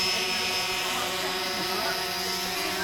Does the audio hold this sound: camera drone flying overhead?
yes